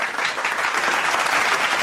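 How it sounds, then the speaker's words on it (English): Short burst of applause triggered from a soundboard, a dense patter of clapping from a crowd that holds steady for under two seconds. "I love when you clap for me, even if I have to trigger it by hitting a button."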